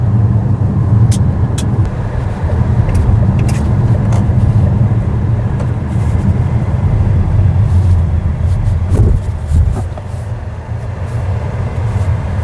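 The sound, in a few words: Changan Deepal S7 car driving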